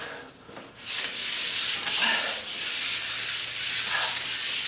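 Fine-grit sandpaper rubbed by hand along a door jamb, a steady rasping scrape in repeated back-and-forth strokes, close and fairly loud with no talking.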